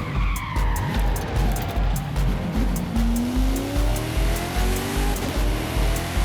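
A Mitsubishi all-wheel-drive car races in Forza Horizon, its engine revving up through the gears while the tires squeal and skid continuously, loud and close, with rhythmic low engine pulses underneath.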